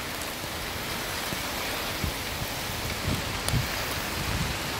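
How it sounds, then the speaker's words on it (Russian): Hail falls steadily outdoors in Kazan in late April, a dense continuous patter with scattered sharper impacts, even and moderately loud throughout with no voices. "Ну вот, то, что это град."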